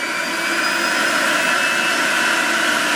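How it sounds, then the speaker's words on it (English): A loud, steady high-pitched juicer motor whine with dense whirring noise while juicing kale, constant throughout and close by. "Juicers are very loud."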